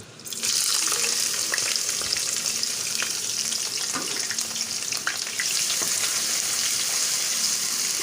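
One large chopped onion goes into about half a cup of hot oil for dhaba-style daal chawal, bursting into a loud, steady sizzle that keeps crackling up close with no talk.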